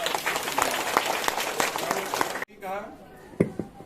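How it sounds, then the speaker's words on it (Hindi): A congregation at a Christian prayer meeting claps together in a dense, steady burst for about two and a half seconds, then stops abruptly as a voice begins speaking. "इसलिए प्रभु यीशु के ताली बजा के"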